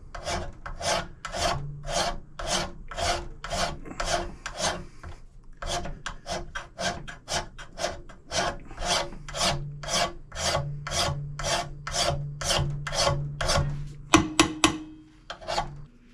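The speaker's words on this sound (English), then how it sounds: "And draw file this edge." A file is draw-filed along the edge of a steel knife blade in a steady series of about twenty rhythmic rasping strokes. The strokes are close and crisp, with a few quicker, heavier scrapes at the end.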